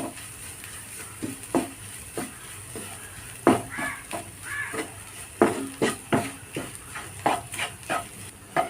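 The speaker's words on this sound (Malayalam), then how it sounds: "ഇനി എല്ലാം കൂടിയിട്ട് നന്നായിട്ടൊന്ന് മിക്സ് ചെയ്ത് കൊടുക്കാം." Egg is stirred and mixed with other ingredients in a frying pan, with a spatula scraping and knocking in a steady rhythm over a faint sizzle, close and moderately loud, with no talk.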